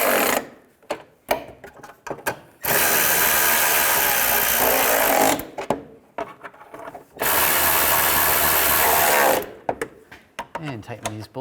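A power tool tightens nuts on the front bumper of a 1998-2010 Volkswagen Beetle, whirring loudly in two long sustained runs with shorter bursts and clicks between them, with a voice talking in the gaps.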